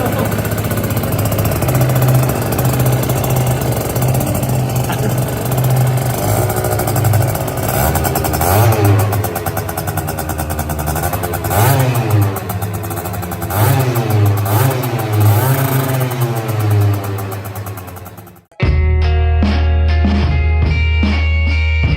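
A Yamaha Aerox scooter with a 70cc engine revs hard and close, its loud buzzing note rising and falling repeatedly before cutting off, followed by a brief, different tonal sound.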